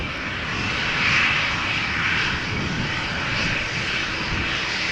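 A 22-year-old Airbus A320 jetliner, Shamrock flight 841 bound for Cork, climbs out of Amsterdam Schiphol with its gear retracting; the engines make a loud, sustained roar that swells slightly early on, then holds steady.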